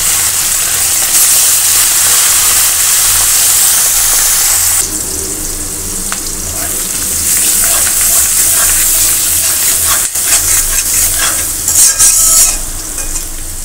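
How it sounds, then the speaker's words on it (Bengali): Small fish with onion and garlic frying in hot oil, a loud steady sizzle with stirring scrapes, shifting texture partway through as the pan contents are moved, close and continuous. "মাছ ভাজা তেলের ভিতর হচ্ছে পেঁয়াজ আর রসুন এই যে ভেজে নিচ্ছি"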